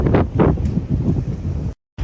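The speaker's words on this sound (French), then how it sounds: "aujourd'hui il y a un vent comme vous pouvez voir via mes cheveux" Strong outdoor wind buffets the microphone in loud, rumbling gusts that cut off abruptly near the end, with no other sound heard.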